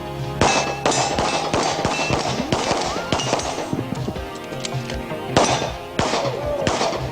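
Sharp pistol shots crack in quick strings at an IPSC pistol shooting match, loud and close, with echoing reports and clanging steel targets in a rapid, uneven rhythm.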